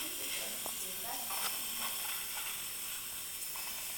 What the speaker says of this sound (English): Oh, you're cleaning your airbrush.